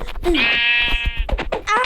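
A sheep in a Minecraft-style survival game gives a long wavering bleat, loud and close, with a voice talking around it.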